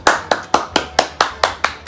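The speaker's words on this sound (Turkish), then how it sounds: "Alkış." A single person claps slowly and evenly, about eight sharp, close hand claps in a steady rhythm with brief gaps of quiet between them.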